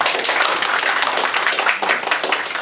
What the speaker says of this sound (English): I would like to give applause to you all